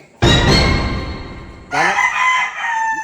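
A rooster crows loudly and close by in one long call, followed by a second rooster answering with a higher crow.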